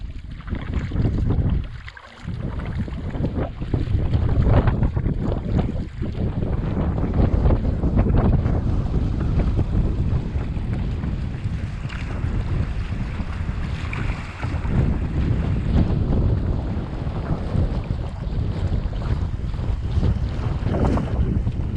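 Strong wind gusts sweep across a boreal lake in Saskatchewan, buffeting the microphone with loud, continuous rumbling and rushing roar that swells and eases, with faint wave wash underneath.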